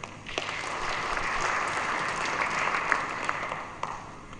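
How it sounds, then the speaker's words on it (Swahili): Audience applause at the Tanzania–UK business forum, a broad even wash of clapping from a seated crowd that holds steady for several seconds. "Tujipigie makofi."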